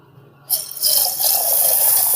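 Water pours steadily and loudly into a vessel to soak white jowar grain for dosa batter, a sudden rushing splash that settles into a continuous close fill.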